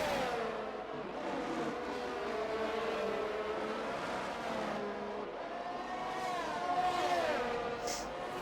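McLaren race car in a racing video game at Zandvoort, its engine note rising and falling steadily through gear changes across the whole stretch, with a brief tire squeal near the end and no talk.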